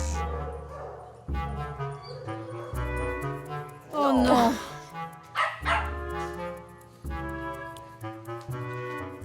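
Dogs bark in short bursts amid sparse background music, with one louder yelping outburst in the middle and several sharp barks after it.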